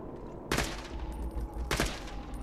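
Borderlands 2 gunfire fires in two short loud bursts of rapid shots with a low hum between them, with no talk.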